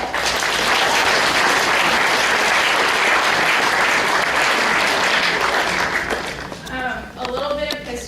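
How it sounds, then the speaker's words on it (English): Applause from an audience at a university Grandparents Day event, loud and sustained for several seconds before tapering off, with voices starting to speak as the clapping fades. "if you could give them a round of applause"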